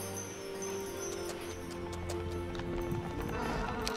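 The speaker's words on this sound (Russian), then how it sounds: "Лошадки." Horses clip-clop steadily in the fantasy strategy game Heroes of Might and Magic 4, a continuous rhythmic trot of hooves over a droning musical background, moderately loud throughout.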